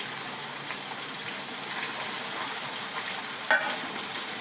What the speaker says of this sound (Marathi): आता हे सगळं व्यवस्थित परतून घ्यायचं.